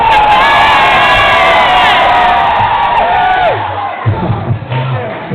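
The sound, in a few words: noisy drunk crowd in a pub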